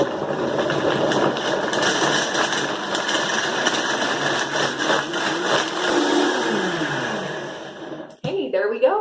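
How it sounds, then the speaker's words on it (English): A high-powered blender runs steadily at close range, blending a date smoothie with soaked dates, a dense continuous whirring roar that cuts off abruptly near the end, followed by a brief clatter. "it's going to take probably about a minute to blend it up fully"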